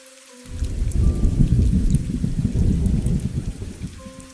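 Heavy rain and a thunderstorm in a Bangla horror cartoon, a sudden loud rumble of thunder over dense pouring rain that continues steadily for several seconds.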